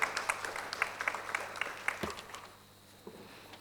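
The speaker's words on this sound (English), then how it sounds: "Please applaud for Rachna." Applause from a business-conference audience greeting a woman entrepreneur in apparel manufacturing, a scattering of claps fading quickly to near silence.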